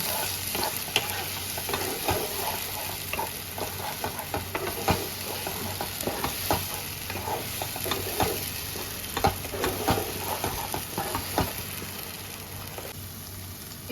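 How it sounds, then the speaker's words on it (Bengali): Amaranth greens with salt and turmeric stirred in a hot pan: a continuous close sizzle broken by frequent scraping, tapping strokes of a spatula against the pan, with no one talking. "পরিমাণ মতো লবণ দিয়ে দিলাম একটু হলুদ গুঁড়ো এবার সব কিছু দিয়ে ভালো করে মিক্স করে নেব"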